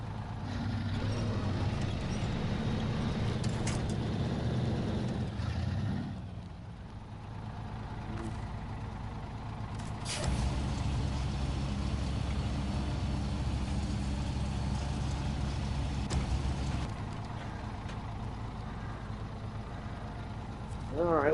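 A Western Star truck engine in the off-road video game MudRunner drones low and loud throughout, dipping briefly midway before returning to a steady rumble.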